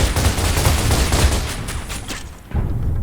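Dense rattling gunfire in the video game Alien Dawn, a loud sustained fusillade of rapid shots that thins briefly before resuming, with no voices.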